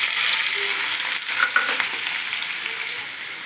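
Onion, garlic cloves and a green chili frying in hot oil, a bright continuous sizzle with faint crackles and pops, close and steady, easing slightly toward the end.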